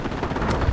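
Calliope rocket artillery strikes in the war game Europe In Ruins, a brief loud burst of dense, rumbling explosive impacts.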